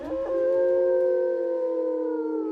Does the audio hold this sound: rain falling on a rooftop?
no